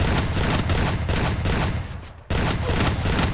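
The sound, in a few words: gunfire in the video game Garena Free Fire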